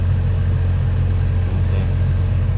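A noisy car A/C blower motor with debris built up inside runs steadily, a loud constant droning hum with low rumble and no breaks.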